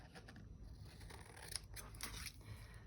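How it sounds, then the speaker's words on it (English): Scissors snipping sticky paper for a scrap journal page, a few close, crisp cuts in quick succession, quiet and alone without speech. "Cutting sticky paper with my scissors again."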